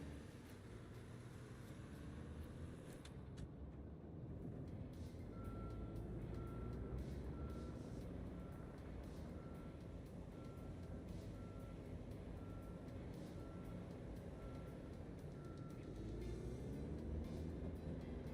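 A haul truck in a video game gives steady, evenly spaced reversing beeps over a low, constant engine rumble, quiet and some distance off.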